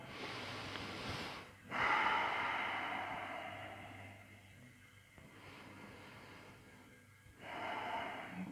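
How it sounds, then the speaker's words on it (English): Slow, deep breaths during a yoga class, several audible inhales and exhales close to the microphone, airy and steady with brief pauses between them. "Take a couple breaths."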